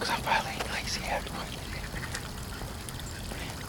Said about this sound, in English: 3 ducks on a rock and tons of duckies on this fountain.